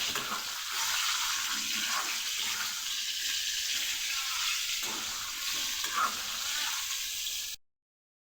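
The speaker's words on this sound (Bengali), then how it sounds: "দিলে আম ছেড়ে অল্প একটু নুন দিয়ে হালকা করে একটু ভেজে নেব" Mango pieces with a pinch of salt fry in a pan, giving a steady, close sizzle with light stirring scrapes throughout, no talking, before it cuts off abruptly near the end.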